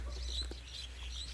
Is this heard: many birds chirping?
yes